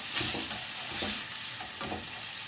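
Soft, steady sizzle of fish frying in a pan, with a few light scraping stirs, fairly quiet and close.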